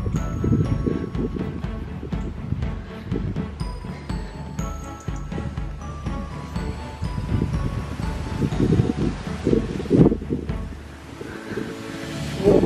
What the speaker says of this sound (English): today, but it's still quite windy